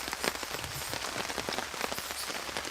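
Rain patters steadily on a campsite tarp, a dense, even hiss of drops with scattered louder taps, close and continuous with no talking.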